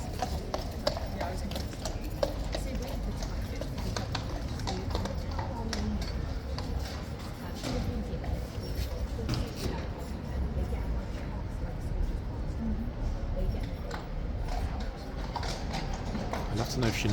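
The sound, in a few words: horse hooves clip-clopping at Horse Guards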